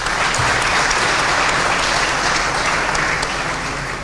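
Spectators give loud, sustained applause for the team at a 2022/23 squad presentation at Palazzo Zanca, a dense, even roar of clapping that tapers off toward the end.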